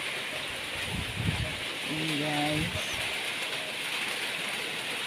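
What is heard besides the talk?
heavy rain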